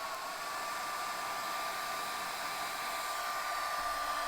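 Hair dryer blowing steadily on a cool setting to dry wet paint on a painting, a constant airy whoosh with a faint whine, close and continuous with no talk.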